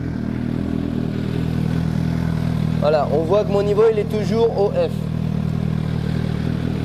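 A Suzuki GSR 750 motorcycle idles steadily in the background after an engine service with ceramic oil, a low continuous rumble under a man's close speech.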